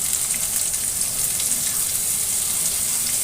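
Cauliflower hits a hot pan on high flame and sizzles loudly and steadily, a dense continuous hiss with no pause, close up in a home kitchen.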